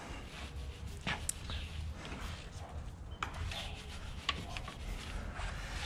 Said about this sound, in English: I'll again use this brush and start by cleaning the barrel.